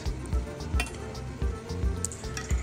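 Shrimp pad thai being stirred with pad thai sauce in a hot pan, a steady sizzle with regular scraping strokes and light clinks of the utensil against the metal, close up and with no voices.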